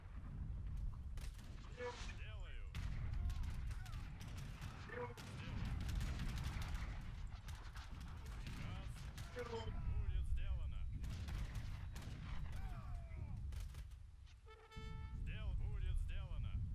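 Bombard cannons and gunfire in an Age of Empires III 3v3 battle, with repeated sharp booms and crackling shots scattered through a busy game soundscape, while players talk over the top.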